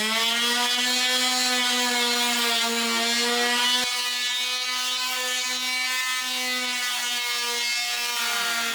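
Hand-cut wooden pieces are sanded down for a cottage kitchen project, giving a steady, close, buzzing drone with constant pitch that shifts slightly partway through and sags toward the end.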